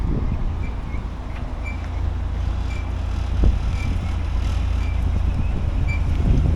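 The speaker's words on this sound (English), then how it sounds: "Oh, here's trains coming actually." A rumbling park train at the Springs Preserve draws near over steady low noise, with faint metallic squeals and a gradually building roar; no one speaks.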